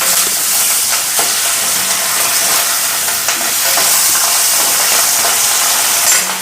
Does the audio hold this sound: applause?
no